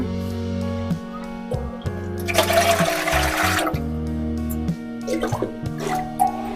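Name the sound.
water poured into idli steamer pot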